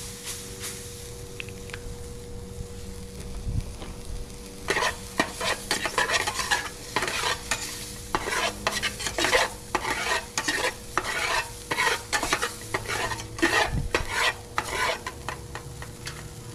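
Onions caramelizing in a cheap pan for homemade In-N-Out style burgers, a low sizzle broken by repeated scraping strokes of a utensil stirring, close and rhythmic, no voices.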